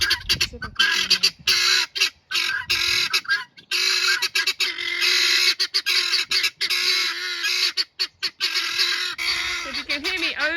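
Guinea fowl on a farm calling to each other in loud, harsh, rapid honking cries, nearly continuous and close by, with only brief gaps between bursts.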